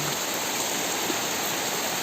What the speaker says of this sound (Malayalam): നല്ല മഴ അല്ലേ പൊന്നോ?